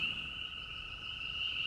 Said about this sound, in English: chorus frogs were singing peep,